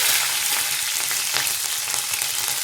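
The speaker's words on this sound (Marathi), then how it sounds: "तेल तापलं की आपल्याला टाकून घ्यायचं आहे जिरे, हिरवी मिरची" Cumin seeds and green chili dropped into hot peanut oil, a loud, dense, continuous sizzle with crackling spits, close up and steady for the whole moment, no talking.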